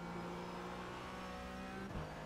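A Porsche Cayman GT4 engine at wide open throttle in a racing game at Mosport, holding a loud, steady high-revving drone with a brief dip and recovery near the end, like a quick shift or lift.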